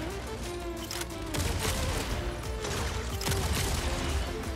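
Mech gunfire in the video game Mech Arena, a dense, continuous barrage of shots and impacts. It is loud and sustained throughout, with a few sharper blasts standing out in the mix.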